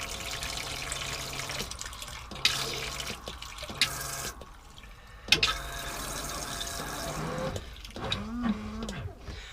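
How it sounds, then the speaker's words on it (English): Water running into a motorhome's fresh water tank, a continuous splashing flow broken by brief clanks and knocks, with a few squeaky sounds near the end. "that's a full tank of water there"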